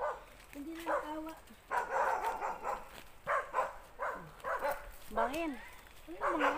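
Dogs barking and yelping on a mountain trail, several distant, faint barks and whines in irregular bursts, with hikers talking nearby.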